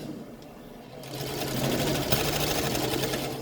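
A sewing machine back stitches a fabric dog coat, its motor starting softly and then running in a steady, close, continuous whir for several seconds with no voices.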